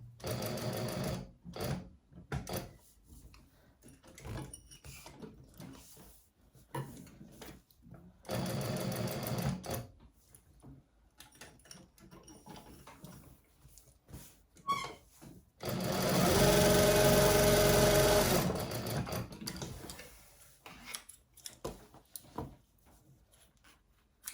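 A sewing machine stitches the lining of a handbag in repeated bursts of close, rapid whirring, with one long steady run, while someone speaks quietly between the runs.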